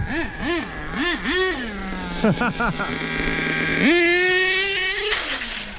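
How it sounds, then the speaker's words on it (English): A nitro RC car with new clutch bells and spur gears revs hard while its tires spin and burn out, a buzzing engine note rising and falling in quick bursts before holding a long high whine, close by. "Ooh, it just burns out."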